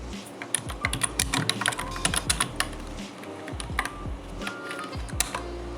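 HTML code is typed on a computer keyboard in quick bursts of close, crisp key clicks with short pauses between runs.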